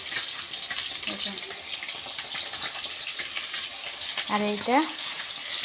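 Fish head and ridge gourd frying in oil, a steady close sizzle running throughout while someone speaks briefly over it.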